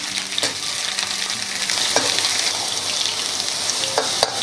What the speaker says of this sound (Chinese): 大概煎3分钟左右翻面。